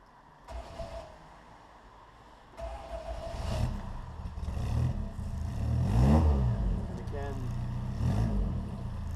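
An Austin-Healey Bugeye Sprite engine idles and revs after restoration, rising in several swells to a louder peak near the middle before settling, heard close up with a person talking over it.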